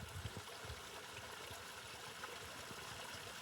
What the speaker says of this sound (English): I love the sound of the water rolling down.